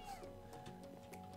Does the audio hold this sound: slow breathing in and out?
no